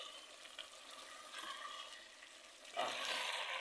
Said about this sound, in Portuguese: Nossa galinha está refogando, olha aqui.